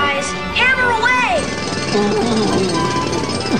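Cartoon jackhammer hammering in an animated scene, a loud rapid pounding under overlapping cartoon voices and shouts throughout.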